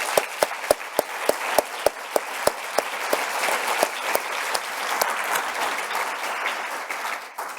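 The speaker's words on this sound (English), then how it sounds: "So maybe we should first start with giving you both a round of applause." Audience applause for two lecturers at an academic talk on social protection, opening with a few distinct loud claps that swell into a steady round of clapping from the room, then cut off abruptly.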